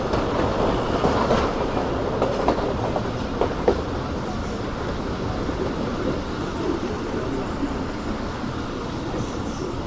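A train rumbles steadily at a station platform during a strike day, a dense continuous roar with faint rail squeal and clatter, close and loud throughout.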